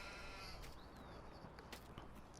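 Sheep bleat in a Farming Simulator 19 sheep pasture on PS4, a few calls over a steady bed of ambient farm noise with no talking.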